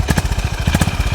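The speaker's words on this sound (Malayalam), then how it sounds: "ആ തമ്പ് കേട്ടില്ലേ, അതാണ് കേട്ടോ. ഇത് ബിഗ് സിംഗിൾ സിലിണ്ടറാ, മാത്രം ലോങ് സ്ട്രോക്ക്." A Honda CB350 RS, a high-mileage, hard-ridden motorcycle with a big long-stroke single-cylinder engine, idles with a steady, close, deep exhaust thump that pulses evenly throughout.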